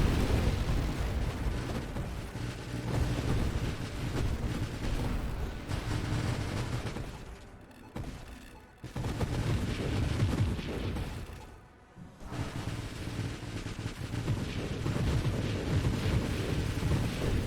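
Ship weapons fire continuously in the space shooter Nova Drift, a dense barrage of booming, crackling blasts that drops away briefly twice before surging back.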